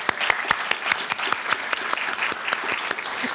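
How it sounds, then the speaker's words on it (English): Audience applause at an art show and artists presentation: a small crowd clapping steadily, with sharp individual claps standing out over a soft, even patter, no talk over it. "give Nancy Nyland a round of applause for putting us all together"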